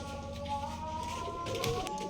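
Rajshahi Giribaz pigeons, with faint soft bird calls and coos, some tonal chirps, and light fluttering and shuffling, heard close but quiet over a low background hum.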